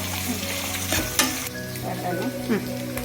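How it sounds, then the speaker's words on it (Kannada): Onions frying in oil until brownish, a dense, continuous close sizzle with the soft scrape and clink of stirring running through it, no voices. "ಸ್ವಲ್ಪ ಬ್ರೌನ್ ಕಲರ್ ಆಗೋವರೆಗೂ ಈ ಥರ ಬಾಡಿಸ್ಕೋಬೇಕು."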